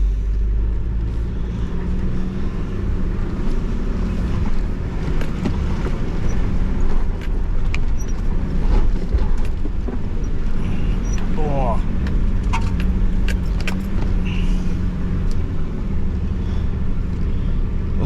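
Nissan Patrol 4WD grinding up a steep bush track to a chromite mine near Mt Margaret, a low steady engine drone with wind buffeting and rattles, while someone talks over it.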